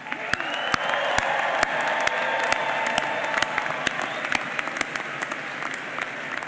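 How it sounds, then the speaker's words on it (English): Steady applause from a large audience at a Citadel graduate college commencement for the Class of 2024, dense clapping with sharp individual claps standing out throughout, fairly loud and sustained. "One more round of applause."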